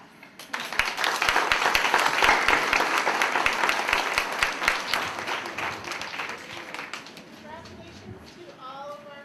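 Audience at a middle school character awards assembly bursts into a round of applause, dense clapping building quickly and fading out over several seconds, with some voices near the end.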